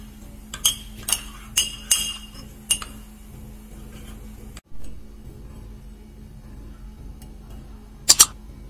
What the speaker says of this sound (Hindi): थोड़ा सा कर्न मिल्क ऐड कर देते हैं इसे अच्छे से मिक्स करने के लिए, choco syrup and cocoa powder को